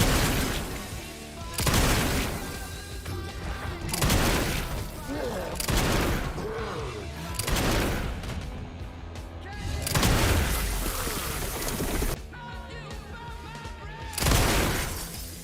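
Heavy gunfire in the video game Resident Evil Requiem comes in loud repeated volleys of booming shots, with a player's voice talking between the bursts.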